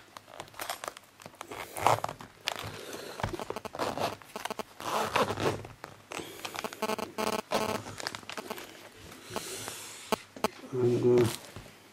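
A zipper pulled shut on a bag holding a plastic sleeve and an old touch screen, several quick raspy zips mixed with crinkling plastic handling, close and fairly loud.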